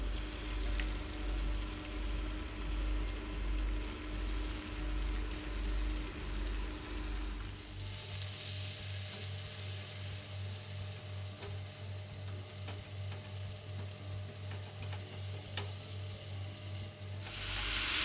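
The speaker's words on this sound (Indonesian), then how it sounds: "Bumbu yang dihaluskan ditumis dengan kurang lebih 5 sendok makan minyak goreng sampai benar-benar matang bumbunya" A steady, crackling sizzle of ground spice paste frying in about five tablespoons of hot cooking oil for Lamongan chicken soto, close and continuous, over a low background hum, with the texture shifting partway through.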